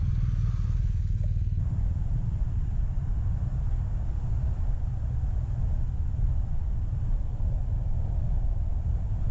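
A BMW R1250GS motorcycle weaves slowly through a cone course, its low engine rumble steady and close under heavy wind buffeting with no talk.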